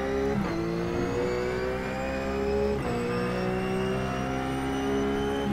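A race car engine in a racing simulator game, short-shifting into third and easing off, runs loud and steady with sharp pitch breaks at each gear change, two distinct shifts interrupting a continuous high-revving drone.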